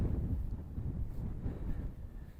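Strong wind on a Lake District fell hike roars and buffets against the microphone in steady low gusts, with no other sounds.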